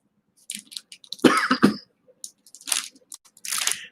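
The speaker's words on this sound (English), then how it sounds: "It sucks I still have this cough" A few short, rough coughs and throat clears come in bursts close to the mic, separated by brief pauses with faint rustling.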